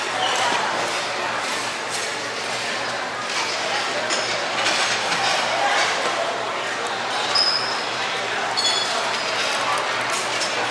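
Glasses clink together in a toast during an all-you-can-eat hotpot meal at a Tainan restaurant, a brief bright chime rising out of steady crowd chatter and dining noise, with voices talking throughout.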